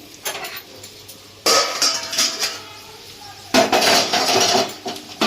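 A lid clatters onto a cooking pan of thin Bengali meat curry with tomato paste, with two sharp metallic clanks up close amid quieter kitchen clinks.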